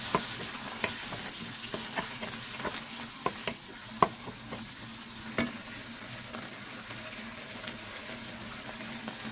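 Fingerroot (krachai) stir-fries with squid and shrimp in a pan, a continuous close sizzle punctuated by sharp clicks and scrapes of the spatula.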